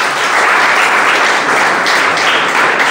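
A gathered audience claps for a group of students, dense steady applause close and loud for the whole stretch.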